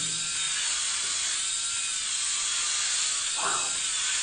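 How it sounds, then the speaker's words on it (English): An electric skull shaver runs steadily at close range, buzzing continuously as it shaves a head down very short, with a brief rasping swell partway through as the blades pass over the scalp. "now I'm going in with the skull shaver and make it"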